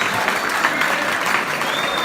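A reunion crowd applauds the committee with dense, steady clapping that fills the room, close and continuous throughout.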